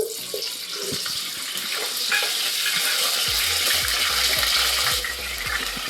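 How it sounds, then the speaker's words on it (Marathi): Raw potato pieces fry in the oil left over from frying eggs, giving a loud, continuous close sizzle with low knocks and scrapes as they are moved around. "आता अंडी तर तळून झालेत आता त्याच्या त्या तेलात आता मी बटाटा तळून घेते थोडा"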